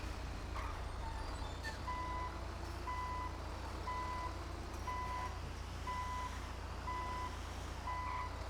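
A truck in a GTA roleplay game backs up with steady reversing beeps, about one per second, under a constant low engine drone, fairly faint and unbroken.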